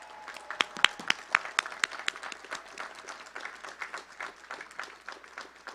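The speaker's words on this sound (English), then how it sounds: "give a resounding thank you and a clap for your" Graduates at a 2022 community college commencement ceremony clap and applaud for their supporters, sharp close claps at first spreading into steady, fuller applause from a large group.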